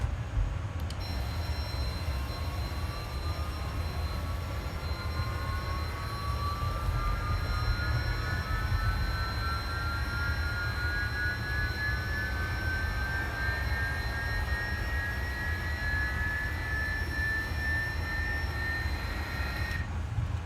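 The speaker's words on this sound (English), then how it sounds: "engine start is progressing nicely" Jet engine spooling up on an Airbus A300-600R in a flight simulator: a steady low rumble under a whine that slowly rises in pitch over about twenty seconds, moderately loud and unbroken, with no talk.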